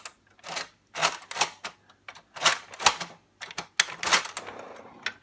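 Keys of a MARX 300 toy typewriter are pressed in a quick irregular series of sharp plastic-and-metal clacks, some in fast bursts and others spaced apart, loud and close with no talk.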